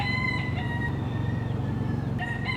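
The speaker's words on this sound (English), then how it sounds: "the city is now a bird sanctuary, protecting the wild chickens that roam the Ybor streets" Wild chickens roaming the streets of Ybor City: a rooster crows loudly nearby over a steady low hum, with a second crow starting just before the end.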